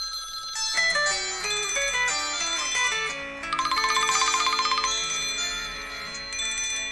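A telephone in a radio show studio rings with incoming calls, playing a loud electronic ringtone melody that repeats with quick trilling bursts. It is close and continuous, with no talking over it.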